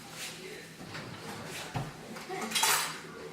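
A metal spoon clinks and scrapes against a pot of white chicken chili in a home kitchen, several short sharp knocks with a brighter clatter near the end, close and moderately loud over faint background noise.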